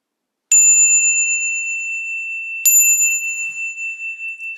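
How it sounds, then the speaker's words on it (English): A meditation bell rings twice, each strike clear and bright, then rings on in long shimmering decay in a quiet room with no voices. "And I brought a bell."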